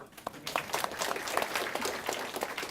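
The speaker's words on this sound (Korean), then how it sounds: "이럴 때 박수 한번" Audience applause at an information security career talk, a short burst of clapping from a seated crowd, moderately loud and steady with individual claps audible throughout.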